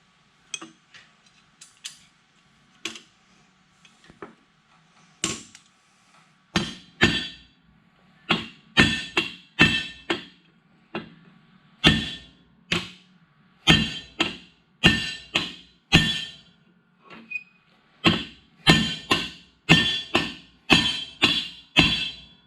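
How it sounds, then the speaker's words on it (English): Repeated sharp metallic blows of a heavy hammer on a rivet of a Massey Ferguson #42 sickle mower knife, irregular at first then coming in quick steady bursts, loud and close with quiet gaps between strikes. "give it good solid licks with a good heavy hammer to swell and expand that rivet out"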